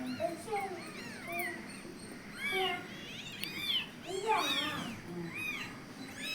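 Hungry young kittens meow repeatedly in high, rising and falling cries, several overlapping at close range, with soft background voices beneath.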